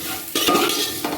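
Soybean chunks, carrot and spices being stir-fried in a pan for a vegetable biryani: a short burst of scraping stirs over a soft sizzle, loud and close, with no voices.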